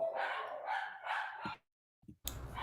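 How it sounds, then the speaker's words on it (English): A dog barks excitedly in several close, loud bursts, then falls quiet briefly before another sharp bark and a noisy burst. "dog's barking crazy"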